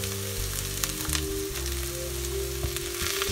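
Tomatoes hitting a hot pan for butter chicken, a steady close sizzle and crackle of frying with a faint hum of music underneath, no talking.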